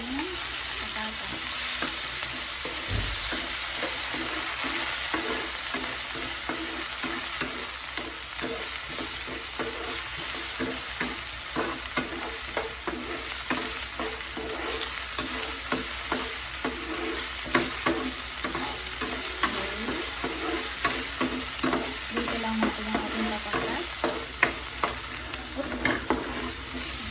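Potatoes fry for corned beef in a hot pan, a constant close sizzle with frequent scraping and stirring clicks of a utensil throughout.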